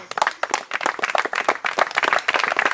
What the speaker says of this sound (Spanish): bríndale un aplauso, Señor